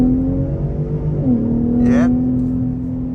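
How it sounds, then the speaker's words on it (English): 2023 Ford F-150 Raptor EcoBoost engine with sport exhaust pulling hard in four-wheel drive sport mode, a steady loud in-cabin drone with a pitch dip at a shift, then a brief whoosh. "this EcoBoost with the sport exhaust actually sounds pretty good"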